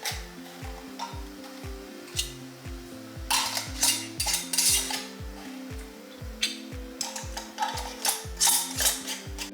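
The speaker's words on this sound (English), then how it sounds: "Then you're going to add your caps to your jars and put your rings on fingertip tight." Metal rings being screwed fingertip-tight onto filled canning jars of bourbon chicken make rhythmic ratcheting clicks in a quick repeating pattern, with bright metallic clinks of glass and lids scattered over them.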